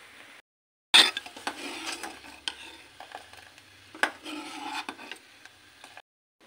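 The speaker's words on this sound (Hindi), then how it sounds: "तो यहाँ पे मेरे बर्तन रखे हुए हैं साफ हुए, और ये मैं रख देती हूँ अंदर" Clean washed utensils are put away in a home kitchen, with a sudden clatter followed by scattered clinks, scrapes and rubbing of dishes being set down, close and moderately loud with no talking.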